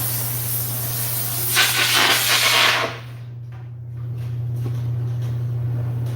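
A short burst of brake cleaner sprayed into an engine cylinder in a garage, a broadband hiss lasting about a second and a half, then dropping away to quieter background noise over a steady low hum.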